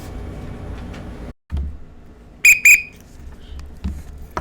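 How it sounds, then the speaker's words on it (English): A whistle blown in two sharp, loud, shrill blasts in quick succession, standing out against a low background hum. "I need that whistle to wake up after a long weekend"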